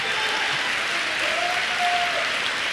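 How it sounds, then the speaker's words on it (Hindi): An audience at a Modicare business event in Punjab bursts into steady, dense applause, many hands clapping loudly and evenly throughout, with a brief tone sounding midway. "उसके लिए आपके सम्मान में ताली बजनी चाहिए"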